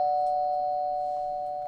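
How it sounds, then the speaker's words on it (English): Doorbell ringing in the Minecraft video game, a single sustained electronic tone that holds steady and slowly fades, heard alone at moderate volume. "Is that the doorbell?"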